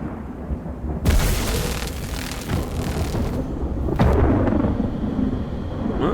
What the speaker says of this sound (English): Well, he got struck by lightning.